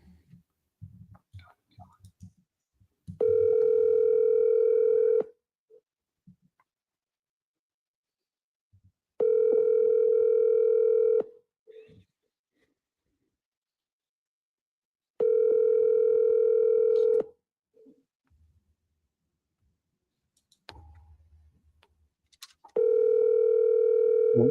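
Steady telephone dial tone heard over a speakerphone while a call is being placed, sounding in four long sustained bursts of about two seconds each, separated by gaps with faint background talk and clicks.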